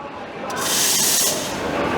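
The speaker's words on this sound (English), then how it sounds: "first of all, you will purge your steam wand" Espresso machine steam wand being purged of condensed water, a loud sustained hiss that bursts in and holds for over a second before easing slightly.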